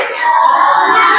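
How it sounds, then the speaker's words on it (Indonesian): A classroom of children claps together in a rhythmic spirit clap during a lesson, a loud, dense burst of many hands with some young voices mixed in. "kita tepuk semangat dulu"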